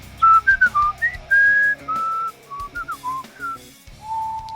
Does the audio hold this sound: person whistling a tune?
yes